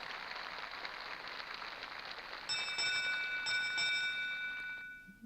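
A bell rings during a Wheel of Fortune–style game to signal that time has run out, a bright sustained metallic tone sounding over a background hiss and slowly fading.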